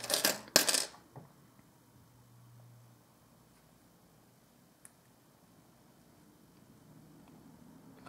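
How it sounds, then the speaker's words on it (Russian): Silver kopeck coins from the reign of Fyodor I Ivanovich clinking sharply together as they are handled, a brief close jingle at the start followed by near silence with a faint later tick. "Тут у нас 30 монеток."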